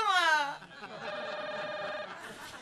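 A telephone ringing indoors, a bright electronic ring tone that sounds close, with a voice briefly at the start.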